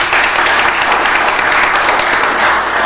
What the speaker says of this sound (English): So a round of applause for Ms.